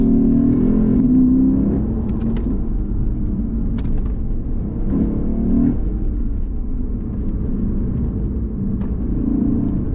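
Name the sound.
2020 Lexus RCF Track Edition engine downshifting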